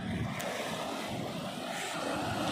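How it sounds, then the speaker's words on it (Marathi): Ocean waves on the Konkan coast surge and wash steadily with a rushing roar, close and loud, with wind buffeting throughout. "हे बघा पाण्याची इथं लाट येते भरपूर मोठी मोठी"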